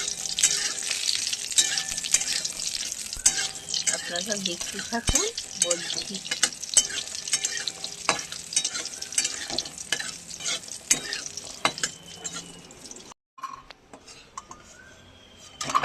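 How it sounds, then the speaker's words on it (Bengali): Lentil dumplings (bori) fry in a pan, a loud, busy sizzle with frequent scraping and stirring clatter throughout. A voice speaks briefly over the cooking near the end. "এই ছাটি কুমড়ো রান্না হবে, তার বড়ি ভাজা হচ্ছে"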